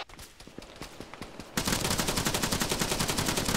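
Rapid automatic gunfire in the video game ArmA 3 suppressing a hill: distant cracking bursts at first, then a sudden switch to dense, loud, continuous volleys of rounds very close by.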